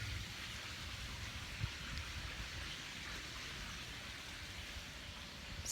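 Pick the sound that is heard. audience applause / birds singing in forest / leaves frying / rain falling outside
rain falling outside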